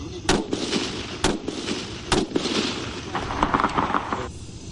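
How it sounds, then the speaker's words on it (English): Rifle shots on an army sniper school firing range, with several sharp, loud reports at irregular intervals over a busy background of range noise. "The soldiers now spend hours each day at the firing range, learning proper shooting technique."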